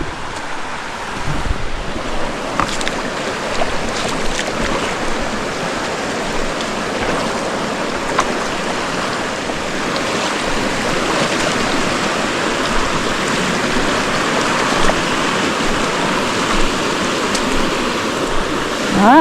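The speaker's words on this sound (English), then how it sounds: "So here we are, approaching the next stream crossing" A mountain stream on a hiking trail rushes in a steady, loud broadband wash, continuous and close, with wind buffeting the microphone throughout.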